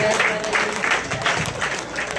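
Short burst of crowd applause for two boxers after their bout, dense clapping with some cheering, moderately loud and close throughout.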